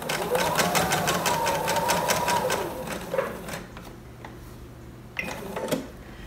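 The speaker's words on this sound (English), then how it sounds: "I'm gonna bring the speed down a little bit and just sew." A sewing machine stitches a fully lined baby romper from McCall's M6304 in a fast, even whirring run of needle strokes, then stops and restarts for a few short bursts, with a voice talking over part of it.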